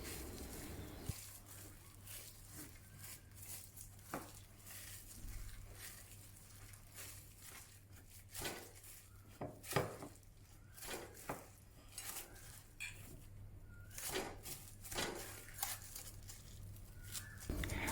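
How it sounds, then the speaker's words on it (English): Taro paste worked into a dough with salt and white pepper in a bowl, with soft squelching, scraping and occasional light clinks of utensil against the bowl, quiet and irregular under a low steady hum. "Mix everything together to form a dough."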